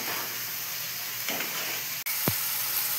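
Spices fry in oil in a pan with a continuous soft sizzle and hiss, broken by a brief scrape and a sharp knock of the utensil.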